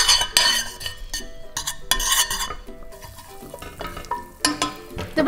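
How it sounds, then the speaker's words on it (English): A spoon stirs butter as it melts in a pot on a low-heat stove, with irregular clanks and scrapes against the metal, close and fairly loud, and no talking. "mix it around the stove for it to melt down"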